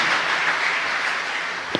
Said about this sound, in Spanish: Muy fuerte el aplauso para ellos.